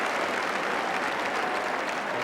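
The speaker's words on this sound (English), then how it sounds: "The applause is for Stuart Robson." Stadium crowd applauding at an English First Division football match between Arsenal and Liverpool, a dense, steady roar of distant clapping filling the ground without break.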